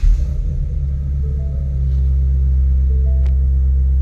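A 2019 Ford Mustang Shelby GT350 idles with a deep, loud exhaust rumble that steps up slightly in volume partway through as the exhaust mode is switched, holding steady throughout.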